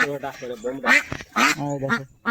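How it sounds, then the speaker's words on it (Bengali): Ducks quack in a rapid, nasal series of calls close by, several bursts back to back with brief pauses between. "আরো হাঁস রয়েছে 5টা 6টা ডিম পাটা নিয়ে হাঁস"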